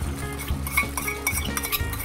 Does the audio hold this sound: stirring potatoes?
yes